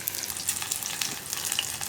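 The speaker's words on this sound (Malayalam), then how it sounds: "പച്ചമുളക് ഒന്ന് ചെറുതായിട്ട് മൊരിഞ്ഞ് വരില്ലേ, അതുവരെ നമ്മൾ വീണ്ടും ഇളക്കി കൊടുക്കുക" Green chillies fry in oil in a pan for a Kerala yogurt (moru) curry, a steady close crackling sizzle with faint scrapes of stirring running through the whole short stretch, no voices.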